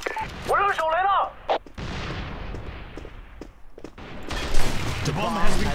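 A thrown grenade bursts in the shooter game AssaultFire, a heavy blast among a flurry of gunfire and shouting voices, loud and close, with more shots trailing off afterward.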